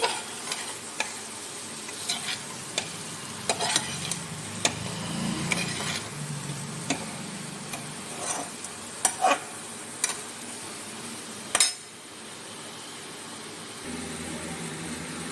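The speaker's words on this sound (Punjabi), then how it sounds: "ਸਾਰੀ ਅਰਬੀ ਅਸੀਂ ਹੁਣ ਵਿੱਚ ਪਲਟ ਦਵਾਂਗੇ ਹਲਕੇ ਹਲਕੇ ਹੱਥਾਂ ਦੇ ਨਾਲ ਇਹਨੂੰ ਮਿਕਸ ਕਰ ਲਾਂਗੇ ਮਸਾਲੇ ਦੇ ਵਿੱਚ" Arbi (taro root) being turned gently into masala in a pan, soft sizzling under scattered spoon clicks and scrapes against the metal, close, with one sharper clatter near the end and no talk.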